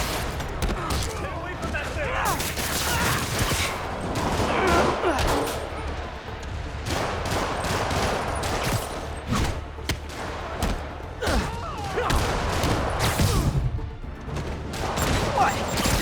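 Rockets and explosions from Marvel's Spider-Man Remastered on PlayStation 5 boom and thud in rapid, dense bursts throughout a loud battle, with a voice speaking over the barrage.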